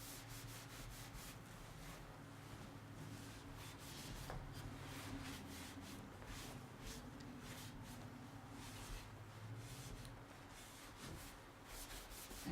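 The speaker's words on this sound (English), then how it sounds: "I'm going to buff it a touch, and I'm getting a nice shine right here" Wax being buffed onto a painted, distressed piece of furniture with a cloth, giving a steady, close rubbing and scrubbing sound with repeated strokes that continues without pause.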